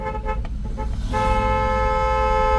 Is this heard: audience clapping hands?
no